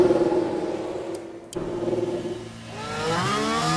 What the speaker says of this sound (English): Let's see if Max has got engine noise this time.